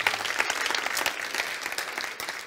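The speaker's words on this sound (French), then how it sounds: "Ou vous applaudissez comme il faut le Seigneur Jésus, ou alors vous n'applaudissez pas" A church congregation claps together in a steady, dense burst of applause that fills the room, sounding close and uniform with no break.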